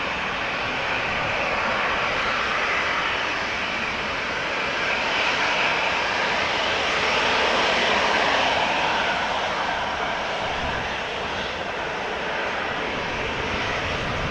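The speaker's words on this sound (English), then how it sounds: "It is an A350-900, brand new, first flight July" A brand-new Airbus A350-900 jet airliner at Amsterdam Schiphol Airport produces a sustained broad engine roar, swelling gently in the middle and holding steady throughout, with no talking.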